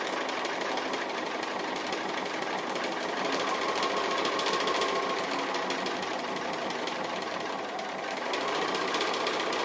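A sewing machine stitches an appliqué around a saucepan shape in a kitchen-themed project, humming steadily and evenly at moderate loudness, with a brief dip near the end.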